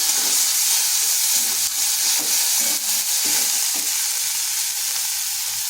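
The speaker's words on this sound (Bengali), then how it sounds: "দিয়ে দিচ্ছি আদা আর কাঁচা লঙ্কার পেস্ট।" Ginger and green chilli paste frying in a pan with turmeric for a vegetarian raw banana curry, giving a steady, close sizzle and hiss with occasional scraping stirs.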